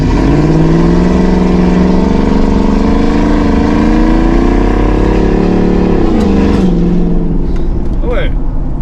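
A Ford F150 V8 with no muffler rumbles loudly at close range, its raw idle swelling and dipping in pitch for several seconds, with brief voices in the background.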